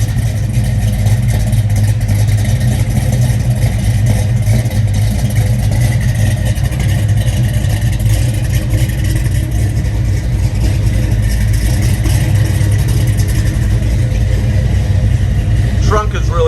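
A 1969 Chevrolet Chevelle with a mild cam idles just after a cold start. The low, throaty rumble is loud and steady, and voices can be heard faintly beneath it.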